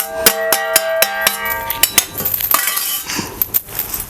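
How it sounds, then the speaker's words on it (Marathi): Roasted green chillies are pounded in a mortar and pestle, giving a string of sharp, close, ringing clinks and knocks in an uneven rhythm, alone without talk. "कलबत्त्यात आपण इकडे ना हे मिरची भाजून घेतलं होतं ते घालायचं थोडंसं गरम गरमच वाटून घ्यायचं बारीक करून घ्यायचं"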